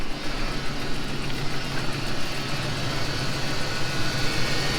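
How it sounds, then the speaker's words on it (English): A Ram 1500 pickup engine runs steadily at idle with an exhaust leak tick, a continuous low rumble with a faint rapid ticking layered over it, recorded close by. "Again, the tick is the exhaust."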